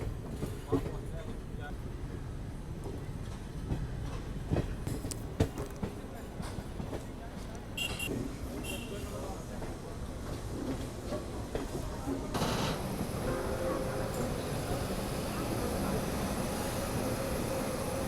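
A Mata Vaishno Devi to New Delhi first-AC special train with ICF coaches pulls into New Delhi station. A continuous low rumble carries occasional sharp clanks and knocks, with busy platform noise picking up toward the end.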